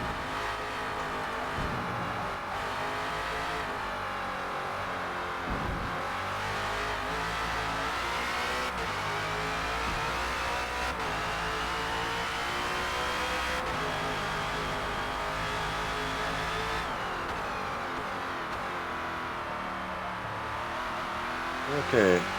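#17 Ford Falcon FG X race car in Forza Motorsport lapping the Indy GP circuit, its engine revving and climbing through gears in long sustained pulls with brief shift dips and some tire squeal, under a driver's commentary.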